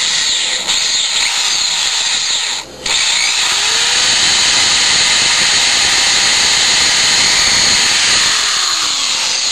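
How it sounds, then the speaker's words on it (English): A power drill whines loudly and steadily up close, pausing once briefly before continuing to bore without letup. "all ready to begin drilling"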